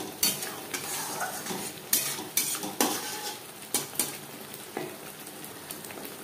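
Spice masala with turmeric powder and salt is stir-fried in a pan: repeated scraping strokes of a utensil against metal over a soft, steady sizzle, close and fairly quiet.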